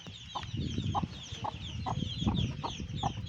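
A hen and her young chicks clucking and peeping close by, repeated short clucks at a steady rhythm over a constant chatter of high chick cheeps, with no voices.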